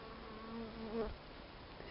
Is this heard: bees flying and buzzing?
yes